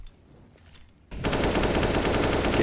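Gunfire in a Counter-Strike match, a sudden burst of dense, continuous automatic fire that erupts after a quiet stretch and stays loud and steady to the end.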